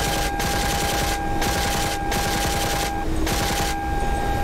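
Sustained helicopter cannon fire in the DCS combat flight simulator, set in a 1999 Yugoslav transport helicopter engagement: a continuous loud rattling burst over steady rotor and engine drone, with brief breaks between bursts.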